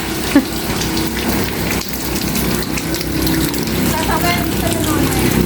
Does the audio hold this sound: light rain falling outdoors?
yes